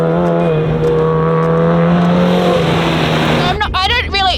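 A Subaru WRX rally car revs hard with a harmonic engine note, sliding on a loose surface, then shifting into a rougher burst near the end; voices talk excitedly over the engine throughout.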